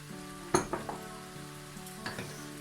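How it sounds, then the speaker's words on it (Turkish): Potatoes frying in a pan while being stirred with a spoon, a soft steady sizzle broken by a few sharp clinks and scrapes of the utensil against the pan, close and without voices. "Şöyle bir 5 dakika kadar patateslerimizi de böyle kavuralım"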